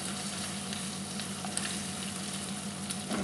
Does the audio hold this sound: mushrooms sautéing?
yes